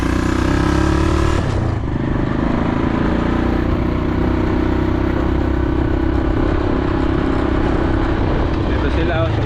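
A motorized tricycle (kolong-kolong) engine runs steadily while driving, with a loud, continuous rumble and clatter up close and the whir of wind and road noise.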